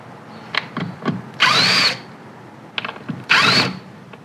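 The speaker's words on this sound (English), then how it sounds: "we're going to start by removing 2 of the existing screws that are closest to the weather stripping" A power drill backs out door hinge screws near the weather stripping in two loud whirring bursts, each about half a second long, with clicks and handling knocks between them.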